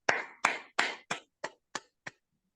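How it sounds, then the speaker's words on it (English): Applause at an online open mic poetry reading: seven separate claps, strong and quick at first, then thinning and fading out, with no talking over them. "You've got claps here also"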